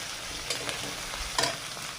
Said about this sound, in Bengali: এবার আমি অল্প একটু শোল মাছ একটু রসুন দিয়ে দিলাম, দিয়ে মশলাটা ভালো করে ভেজে নিই।